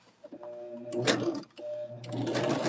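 A sewing machine runs in two quick bursts while stitching a quilt block seam, its rapid mechanical chatter close and clear, with a brief pause between the runs.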